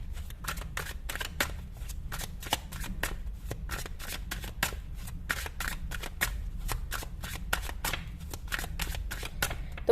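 Tarot cards being shuffled by hand, a steady run of crisp riffling snaps repeating close up over about ten seconds, with a low hum underneath and no talking.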